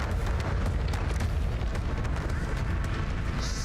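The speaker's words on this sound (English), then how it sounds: "Oh, people exploding." In the video game AI LIMIT, explosions keep going off as a dense, sustained roar with heavy low rumble and crackling debris, loud and unbroken, ending with a brief high-pitched tone.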